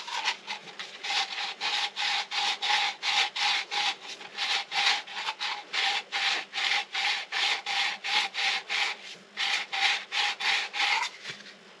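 An antique silver cup being polished by hand: steady back-and-forth rubbing strokes in a regular, even rhythm, close and fairly loud, continuing with only brief pauses and no talking.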